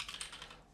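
A brief, close burst of keystrokes on a computer keyboard while working in Unreal Engine, a soft clatter lasting under a second with no voices.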